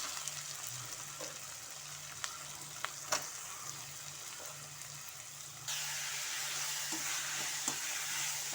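Small-chopped mushrooms sautéing in a pan for mushroom gravy, a quiet steady sizzle with a few sharp utensil clicks, the hiss jumping noticeably louder partway through, no talking.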